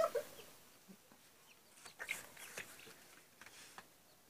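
Ducks racing give soft, scattered quacks and clucks in short, irregular bursts, faint and fairly distant against a quiet background.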